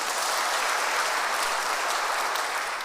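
A church congregation at a Kikuyu service claps for Jesus, a dense, steady wash of applause from many hands that sounds close and full and runs throughout with no speech.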